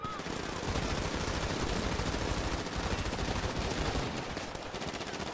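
Sustained automatic gunfire in GTA V during a NoPixel roleplay shootout, loud dense bursts of rapid shots running continuously without a break.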